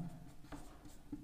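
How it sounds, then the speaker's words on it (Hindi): Pen writing on paper during a Class 10 math lesson, a brief faint scratching with a couple of short strokes over quiet room tone. "तो यहाँ लिखेंगे"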